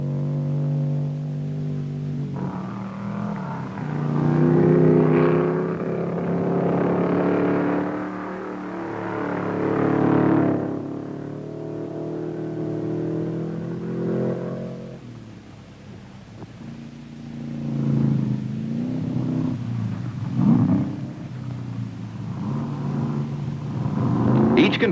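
An Oldsmobile Omega race car climbing the Pikes Peak hillclimb in 1975, its engine droning steadily with rising and falling revs and some wind noise, heard alone without talk.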